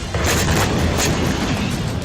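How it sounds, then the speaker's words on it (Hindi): A missile strikes a vehicle in Doha, Qatar, producing a loud, sustained roaring blast of broadband noise that fills the whole moment without a clear start or fade. "जिसमें एक वाहन पर मिसाइल गिरने से तेज धमाका हुआ"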